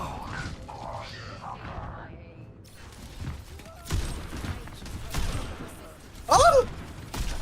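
Sniper gunfire in the video game FFXIV: a few sharp, loud blasts spaced seconds apart, cracking over a murky bed of game noise and mechanical creaks, with a voice speaking in between.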